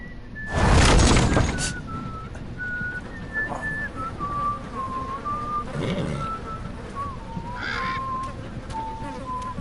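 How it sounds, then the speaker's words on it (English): A character whistles a slow, wandering tune of single clear notes in the Game of Thrones: Episode 2 - The Lost Lords video game, heard over a loud crash and background rustling. "Sounds like Ramsey Snow whistling"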